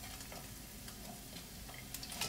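Zucchini noodles hit a pan of frying shallot, tofu and garlic for a vegan pad thai, giving a faint, steady sizzle with light crackles.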